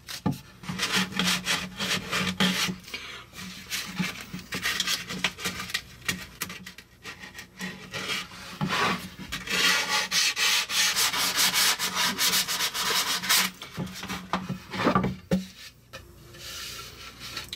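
Steady rhythmic sanding of a wooden cribbage board, a coarse rubbing scratch repeating back and forth at close range, with brief pauses between strokes.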